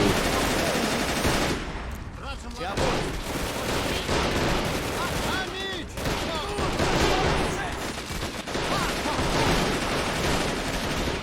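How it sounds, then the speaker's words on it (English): Heavy machine gun fire from a Soviet-held village in Men of War: Assault Squad, set at Stalingrad in 1942, rattles in dense, continuous bursts with scattered louder cracks throughout. "Lots of fire from that Soviet-held village. Looks like a pretty large machine gun there."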